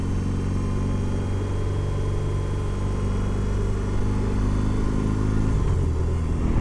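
A BMW R18 Transcontinental motorcycle under way, its engine giving a steady, close, low rumble with a droning hum that holds evenly throughout, with no talking.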